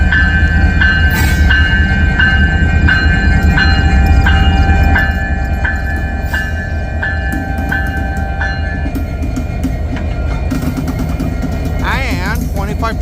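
A Union Pacific freight train rolls past in St Paul, Minnesota, locomotive leading, with a steady loud rumble and clanking wheels, a sustained horn-like tone early on and people talking over it.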